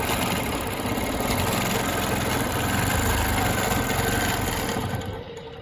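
A longarm quilting machine stitches a Baptist fan pattern along rulers, giving a steady, loud mechanical hum and rapid needle chatter that runs continuously before easing off at the very end.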